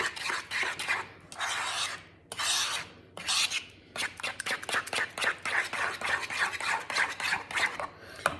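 A spoon stirs a keto chile relleno casserole mixture with salsa and pepper, producing close, rhythmic scraping and rubbing strokes that start slow and quicken into a steady series.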